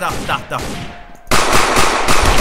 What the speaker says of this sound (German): Ich weiß nicht, von wo die Schüsse gerade kommen.